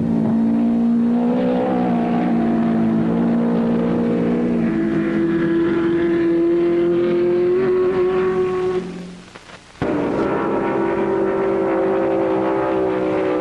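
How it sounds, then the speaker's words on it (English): Indianapolis-type race cars in a 300-mile National Championship race at Riverside, engines roaring loudly and continuously with rising and falling pitch as they pass, a brief dip near the end before the roar returns. "this National Championship Indianapolis car race"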